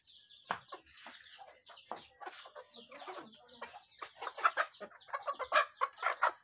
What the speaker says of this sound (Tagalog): yung ating pinapakain na mga manok natin